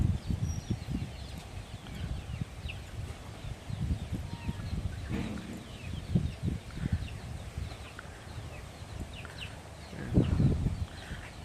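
Chickens cluck and scratch around at a farm during feeding, a busy low flutter of soft clucks and scuffling with a louder burst near the end, birds close by.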